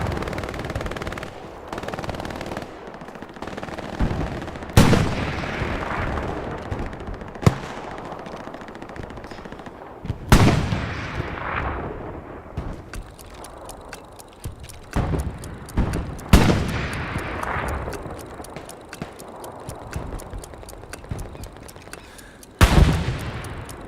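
Gunfire in the World War II shooter Hell Let Loose: distant crackling rifle and machine-gun fire with several loud, close single shots and booming impacts spread over the battle.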